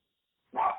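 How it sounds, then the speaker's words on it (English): A dog barks once indoors, a short, fairly faint bark that breaks an otherwise silent moment. "sorry about the dog"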